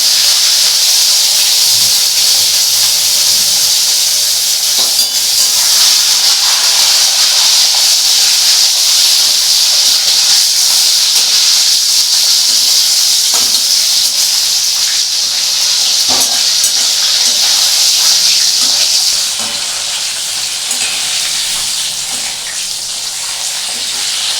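Katla fish is dropped into hot oil and sizzles with a loud, close, steady hiss that holds for most of the time before easing slightly toward the end.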